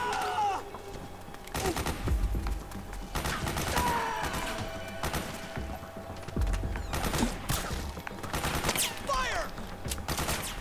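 Soldiers in the video game Metal Gear Solid 4 open up with repeated bursts of gunfire, a ragged volley of rapid shots that comes and goes in clusters over a busy battle background.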